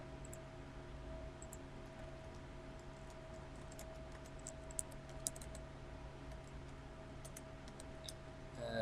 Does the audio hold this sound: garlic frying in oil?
no